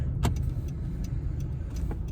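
Steady low road rumble from inside a moving car on the road, with a few faint clicks and no clear rise or fall of a single passing vehicle.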